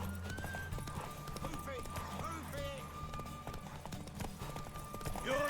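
A horse gallops in The Witcher 3 with a rapid, rhythmic clip-clop of hooves and occasional snorts. The sound is moderately quiet and sits under in-game sounds and voices.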